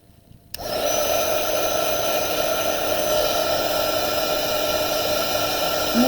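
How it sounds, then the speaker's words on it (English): A hair dryer switches on after a brief quiet moment and blows a loud, steady whooshing hum while drying glued napkins on rocks, running continuously to the end. "we're gonna get our dryer out and dry these"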